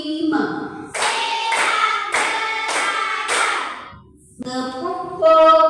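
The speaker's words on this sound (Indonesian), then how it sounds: "Kelas berikut yaitu tepuk konsentrasi." A primary school class of sixth graders does rhythmic concentration clapping in a classroom, with sharp, loud group claps in steady bursts and children's voices chanting along.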